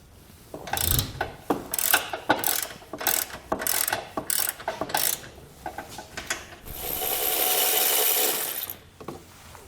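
A socket ratchet clicks in quick bursts as bumper nuts are loosened on a 2021 Jeep Gladiator, close and crisp with uneven rhythm, followed by a longer rasping spin of the ratchet.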